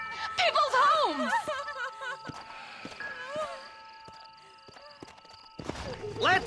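Horse hooves clip-clop in Red Dead Redemption, the game's Western riders setting off at a gallop, the hoofbeats running under shouted voices and music.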